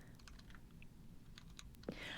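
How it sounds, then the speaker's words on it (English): Button presses in The Stanley Parable video game, each a keyboard stroke mixed with a synthesized tone, come as a few soft clicks and a brief rising tone near the end, over low background noise. "A selection of the sounds used throughout the game when buttons are pressed. Each sound is a mix of keyboard stroke and synthesized tone."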